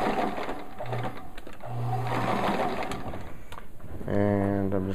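A domestic sewing machine stitches around the edge of a Velcro pocket in a steady mechanical whir, with a person talking over it and a short clear burst near the end.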